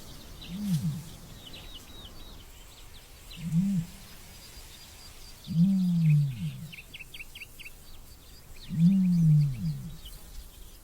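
Ostriches mating in the wild give four deep, low booming grunts spaced a few seconds apart, the later ones longer and louder, with faint bird chirps in the background.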